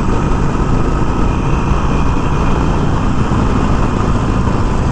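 A 2020 Harley Davidson Iron 1200 Sportster cruising at around 50, its engine a steady, loud, low rumble blended with wind roar and no talking.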